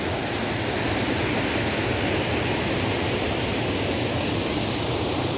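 River water rushes steadily, a loud continuous broadband roar of flowing current, unbroken and close, with no voices over it.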